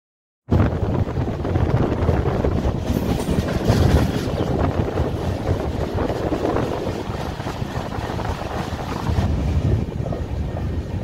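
The Jasidih Express (train 22305) rumbles steadily along the rails near Bhadrak station, a loud continuous roar with rhythmic rattling of the carriages and some wind buffeting.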